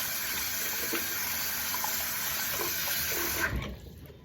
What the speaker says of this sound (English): So now we're gonna rinse our hands off.